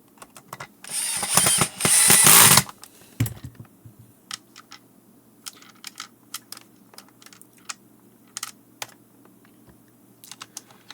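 Screws are backed out of a Bissell 22889 cordless vacuum with a power screwdriver, starting with a loud whirring burst and then giving way to scattered small clicks and ratcheting ticks at close range.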